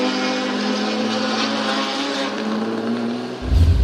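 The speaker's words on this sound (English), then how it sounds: "it sounds like his car is running like he wants it to" A drift race car engine screams at high revs during a qualifying run at Sugo, Japan, holding a loud, sustained buzzing roar with slight pitch swells before a sudden lower rumble at the end.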